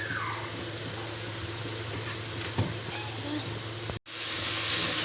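Keema, minced meat, frying in a pan, a steady broadband sizzle with faint scraping of a spoon throughout, with a brief drop to near silence just before the end.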